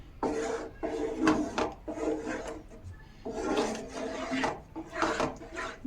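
Rice batter with ingredients being stirred by hand in a bowl, giving soft, repeated scraping and rubbing strokes in uneven bursts, moderately close with no talking.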